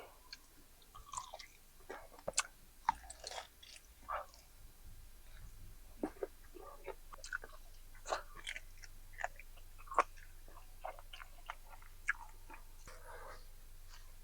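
Close, crunchy chewing and biting on a spicy barbecue chicken drumstick from Joe's Wings 'n Wieners, with irregular wet bites and crunches spread across the stretch and no talking.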